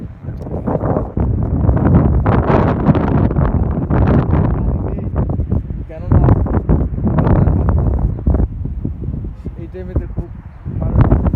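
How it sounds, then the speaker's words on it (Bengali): Loud wind buffeting the microphone in rumbling gusts on a riverbank in Chandpur while a person talks over it throughout. "প্রচণ্ড বাতাস থাকা যাচ্ছে না"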